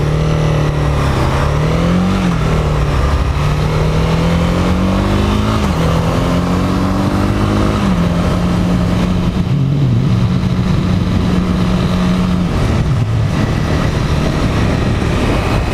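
A 2018 Honda CB300R motorcycle on the road, its single-cylinder engine droning loudly and close, with repeated rises and drops as the rider shifts and throttles, over steady wind rush.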